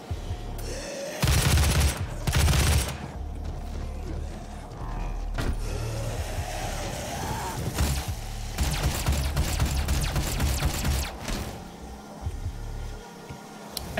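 Heavy gunfire in DOOM roars in repeated loud bursts and rapid volleys across the scene, mixed with thuds and mechanical clanks, no talking over it.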